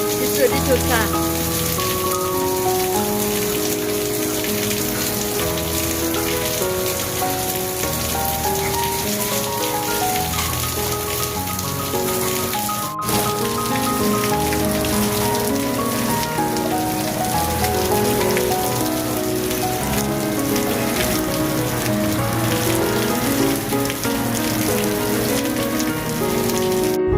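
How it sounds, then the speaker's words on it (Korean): Steady, dense rain drums on a car during a drive, a loud continuous patter that fills the whole stretch, with a low road rumble underneath and no talking. "빗소리 좋다."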